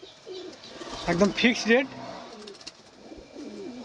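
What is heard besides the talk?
Madrasi pigeons cooing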